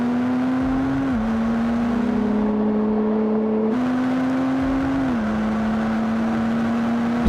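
Tuned diesel car pulling hard on boost, its engine drone holding loud and steady throughout with brief pitch dips at gear changes and a constant whirring roar.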